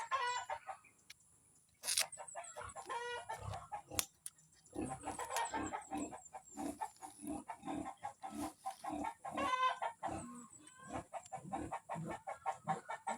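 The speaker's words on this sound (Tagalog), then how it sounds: "Mag-iingay mag yung aking mga manok, at saka yung mga bangas." Chickens cluck repeatedly in irregular bursts, fairly close, with a rooster-like call and some high chirps in the background.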